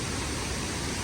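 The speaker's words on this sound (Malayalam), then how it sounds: "ഭീകര വെള્ളച്ചാട്ടാ. വെള്ളം കുത്തി വലിച്ചിട്ടാ വരുന്നേ." Charpa waterfall near Vazhachal in Chalakudy, heard from the bridge, rushes with a steady, loud wall of water noise and no breaks.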